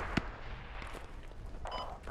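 A sharp explosive crack from a mortar round bursting in a tactical multiplayer shooter, followed by a faint, muffled second impact, with low rumble and background din of the battlefield throughout.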